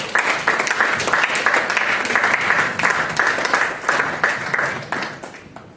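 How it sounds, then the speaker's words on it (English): An audience claps for itself at an event about internet safety in Nigeria, a loud, dense burst of applause that holds steady for several seconds and then starts to thin. No one speaks over it. "please clap for yourselves."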